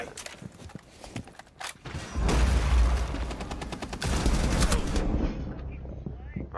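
Rapid bursts of video game gunfire, loud and close, with rattling automatic fire swelling in the middle and trailing off at the end, while a voice speaks underneath.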